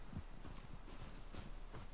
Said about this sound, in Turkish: Aa, atlar geliyor.